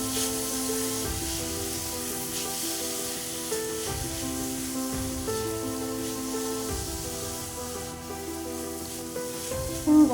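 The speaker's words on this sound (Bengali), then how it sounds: "এবার দেখে নেব বিট ভাজা হয়েছে কিনা।" Beetroot sizzles steadily while frying in a pan, a soft, even crackle running the whole time with faint stirring scrapes and a clink near the end, no talking.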